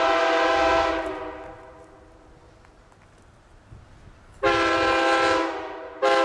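A passing train sounds a Nathan Airchime K3HA horn in two loud, sustained chord blasts, the first fading away before a second blast and a short third burst, with track rumble faintly underneath.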